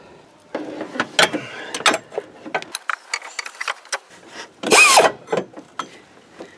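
A socket wrench works an engine mount bolt on a 2012 Ford Fusion, giving a series of close, sharp mechanical clicks and ratcheting bursts, with one louder grinding stretch midway through.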